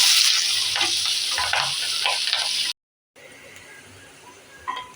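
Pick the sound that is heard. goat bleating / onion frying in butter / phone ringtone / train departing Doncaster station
onion frying in butter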